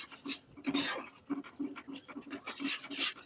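Black pepper powder and salt being mixed into paneer in a bowl, a soft scraping and rubbing with repeated short strokes, close and fairly quiet, with a faint low hum underneath and no talk.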